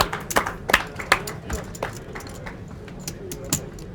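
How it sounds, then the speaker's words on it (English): A few scattered hand claps for a poker dealer at a tournament table, light and sparse with talk around them. "Let's give Michael a round of applause"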